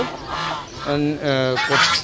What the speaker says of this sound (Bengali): আর দেখেন এই যে হাঁসগুলো বিকেলে কত আনন্দ করছে